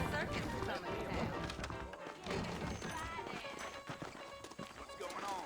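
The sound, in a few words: horses trotting in video game Red Dead Redemption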